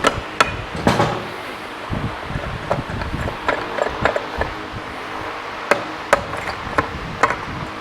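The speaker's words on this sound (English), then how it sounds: "Let's grab our dead blow and see if we got everything or not." Dead blow hammer striking the split engine cases of a GSXR 1000, a series of sharp, close thuds at irregular intervals over a low background rumble, no talk.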